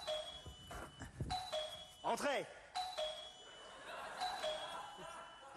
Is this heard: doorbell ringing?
yes